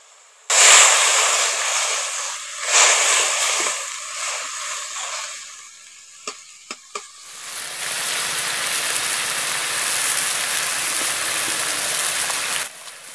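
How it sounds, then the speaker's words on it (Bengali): Water poured into a pan of simmering fish curry with potatoes and small fish gives a loud rushing, splashing hiss, then settles into a steady bubbling sizzle close by. "এবার জলটা দিয়ে দিচ্ছি।"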